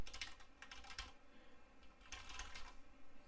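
Typing on a HyperX Alloy Elite mechanical keyboard produces quiet clusters of clicky keystrokes, close by, with a pause between two bursts.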